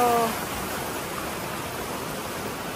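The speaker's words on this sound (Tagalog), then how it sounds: "Tapos ang lakas ng tubig, oh." Strong rushing water at swimming pools in a mountain resort, a steady, broadband wash of flowing water close by that continues without a break. A faint voice is heard only briefly at the start.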